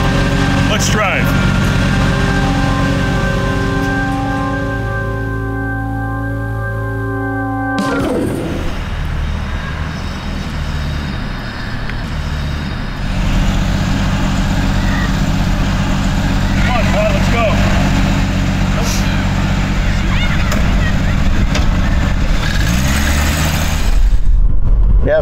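A 1976 car's engine hums and rumbles while driving, a steady low drone that shifts after a gear change, with people talking inside the cabin over it.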